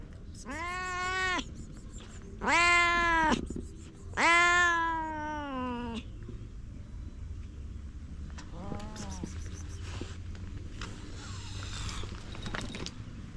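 A cat in Chiang Rai, Thailand lets out three loud, drawn-out meows close by, followed by a few fainter, shorter cries.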